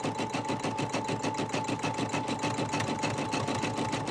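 A Brother SE 400 embroidery machine stitches through thick double stabilizer, running at a steady, fast mechanical rhythm. The whirring motor carries rapid repeated needle thumps, close and continuous, with a constant hum underneath.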